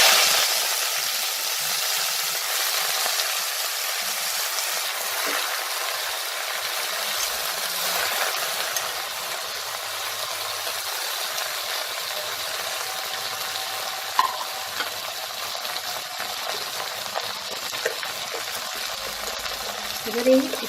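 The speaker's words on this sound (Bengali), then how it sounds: "এবার আমি খারকোল পাতাগুলো এই তেলে দিয়ে দেবো।" Kharkol leaves dropped into heated oil in a pan keep up a loud, continuous frying hiss, with occasional small pops and crackles scattered through the long stretch.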